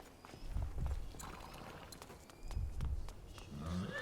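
A horse's hooves in Prince of Persia The Lost Crown clop softly in two short pairs of steps, faint over a low ambient background.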